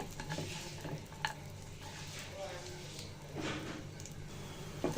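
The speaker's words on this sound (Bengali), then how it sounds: "কিশমিশ কাঠবাদাম কাজু বাদাম ভাজা হয়ে গেছে" Raisins, almonds and cashews fry and are stirred in hot ghee, giving a steady soft sizzle with occasional scraping clicks of a spoon against the pan, moderately close, with no talking over it.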